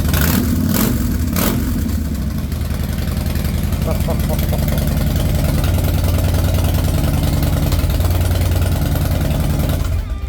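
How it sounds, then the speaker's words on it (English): A 2008 Harley-Davidson Street Bob motorcycle's deep, steady engine rumble idles close by, loud and continuous, with a few sharp clicks at the start. "Harley Davidson sound. It just has the rumble you want."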